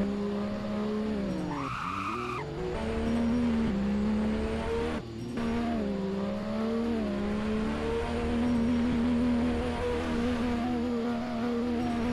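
A car drifting in the Driving Empire video game, engine droning steadily while tyres squeal and skid in long stretches, loud and continuous with a brief dip midway, no voices.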